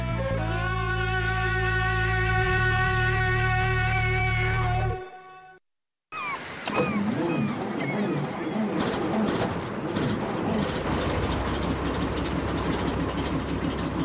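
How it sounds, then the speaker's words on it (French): A cartoon engine drones with a steady, loud hum for several seconds, then cuts out abruptly into a brief silence before busy, chirping cartoon noises take over. "Oh, ce maudit moteur me fait encore un caprice"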